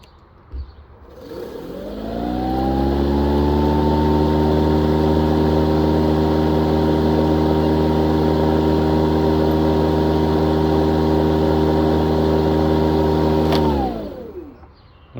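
Toro 60V Vortex 22-inch Recycler battery lawn mower spinning up from quiet to a steady, loud electric motor and blade whine with a strong tonal hum, holding level for about twelve seconds before winding down to stop.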